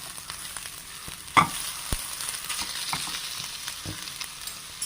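Crushed ginger and garlic frying in oil in a frying pan: a steady hiss of sizzling oil with scattered spoon clicks and one sharp knock against the pan.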